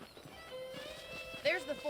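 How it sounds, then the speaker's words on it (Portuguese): Horses in Red Dead Redemption give a short whinny with faint hoof clops, heard under speech in a Western game town. "The horses are saddled up over here."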